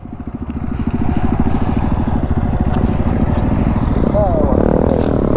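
A TVS Apache motorcycle engine drones loud and steady through circle wheelie practice, its throttle held nearly constant with a slight rise at the end, while someone talks over it.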